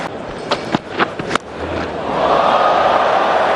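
A cricket crowd cheers a big hit by Ben Stokes. A few sharp thuds come first, then the crowd roar swells into a loud, sustained, broad wash of noise.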